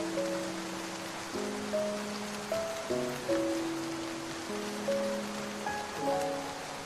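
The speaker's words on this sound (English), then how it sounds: "As the rain poured" Steady pouring rain hisses evenly throughout, with soft sustained musical notes playing over it.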